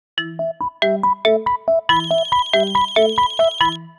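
A phone ringtone plays: a loud, close electronic melody of quick, evenly spaced notes that repeats, with no voices.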